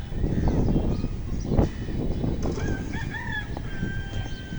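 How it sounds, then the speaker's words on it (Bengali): Native chickens and other fowl calling outdoors on a farm amid steady background noise, with a few higher-pitched calls standing out toward the end. "মুরগি পালতেছে দেখা যাচ্ছে"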